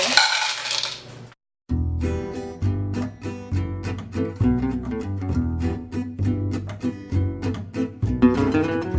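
Bittersweet chocolate chips tumble into a bowl in a series of bright, clinking rattles, bursts of small hard pieces striking the surface repeatedly and up close, with no talking.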